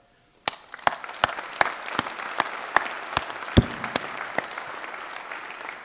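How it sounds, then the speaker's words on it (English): Scattered applause from an audience at an electric association annual meeting, a few distinct claps breaking out and continuing in a loose, uneven rhythm, fairly light and thin. "I want you to applaud her."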